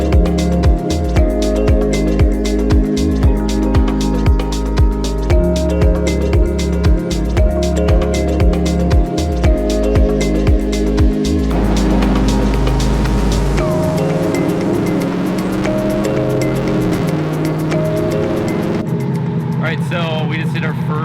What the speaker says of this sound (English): So we just did our first pull on our lowest boost setting possible.